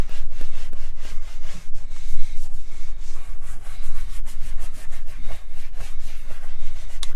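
A horsehair brush scrubs a leather car seat in quick, steady back-and-forth strokes, a close, continuous rubbing scratch with no talking.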